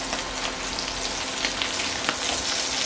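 Meatballs frying in a pan, a steady dense crackling sizzle with small pops scattered throughout, close and continuous with no voices.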